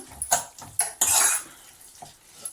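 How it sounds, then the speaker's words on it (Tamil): A metal ladle scrapes and clanks against a pan as cooked tomatoes are mashed for tomato thokku, a few close, bright metallic strokes with short pauses and no talking. "நம்மளும் கரண்டியை வச்சு ஒரு தடவை நல்லா அப்படியே தக்காளியெல்லாம் மசிச்சு விட்டுக்கலாம்"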